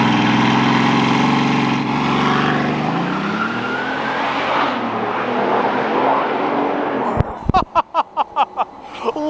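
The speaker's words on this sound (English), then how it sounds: "I wanted to hear this exhaust in person to see if I wanted it" A car's loud exhaust roars through a hard launch, the engine note rising and fading away into the distance, followed by a rapid series of sharp pops and bangs nearby.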